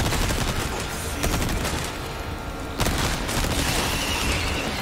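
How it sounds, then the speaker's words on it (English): Sustained machine gun fire in Resident Evil 4, loud and close, rattling in dense continuous bursts with a brief dip in the middle before resuming. "This also wouldn't be a bad time to pull your machine gun."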